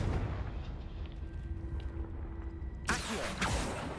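A sudden broadband fiery blast from the Confringo fire spell in Hogwarts Legacy erupts about three seconds in after a low rumbling ambience, loud and close, then rolls on as a crackling roar.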